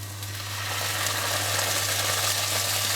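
Green Thai curry paste frying in a hot pan with onions, a steady close sizzle and spatter building slightly in intensity, over a low constant hum.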